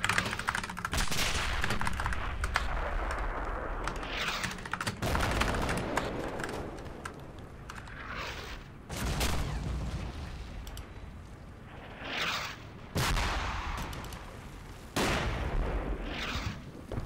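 Light mortar fire in the Men of War strategy game, a series of distant booming thuds and crackling blasts spread across the stretch, mixed with keyboard typing and no talking.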